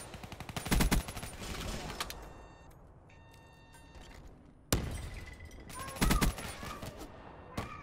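Prefiring a doorway in a video game gives loud bursts of automatic gunfire, then a quieter stretch of clinks and ambience, then another heavy volley of rapid shots with glassy crackle.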